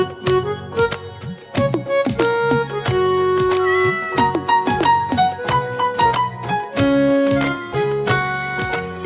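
Meowing in a children's cartoon song about a cat, sung by a voice imitating a cat over bright, steady music.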